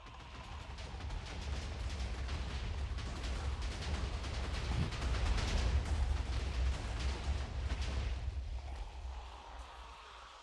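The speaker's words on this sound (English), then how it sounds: "Moments later, we hear explosions coming from the distance." Booming explosions rumble from afar in a video game, a continuous deep roar with scattered crackling bursts that swells and then fades out.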